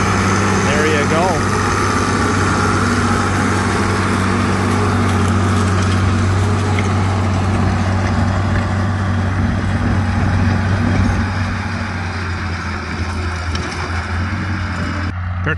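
An International Harvester 560 tractor pulls a plow through a deep furrow in heavy ground at a plow day, its steady low engine drone continuous and fairly loud throughout, easing slightly near the end, with voices talking over it.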